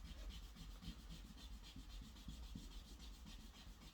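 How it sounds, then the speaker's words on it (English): A plastic eraser rubs back and forth over a charcoal drawing of a British coastline, a steady close scrubbing with quick repeated strokes and no voices. "I'm going to work into these with a plastic eraser."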